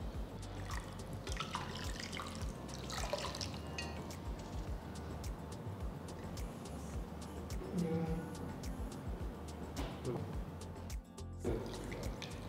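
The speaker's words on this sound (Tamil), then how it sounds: "பச்சை தண்ணி ஊற்றி இந்த மாதிரி வாஷ் பண்ணிடுங்க" Sago pearls being rinsed in cold water for a mango sago dessert, with soft dripping and trickling water and gentle sloshing at close range, under a quiet steady background.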